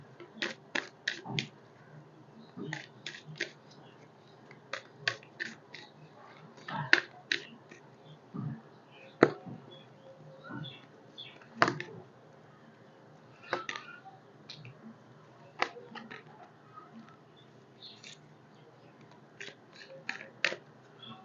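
Tarot cards being shuffled and drawn, heard as sharp, close, dry snaps and flicks coming in quick clusters with pauses between, fairly quiet over a faint room background, no talk.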